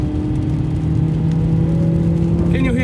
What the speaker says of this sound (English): Let me just rev the engine for you.